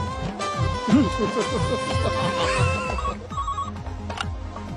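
A telephone rings loudly and repeatedly in a trilling pattern over a busy background of music and other sounds, with a brief change in the ringing tone toward the end.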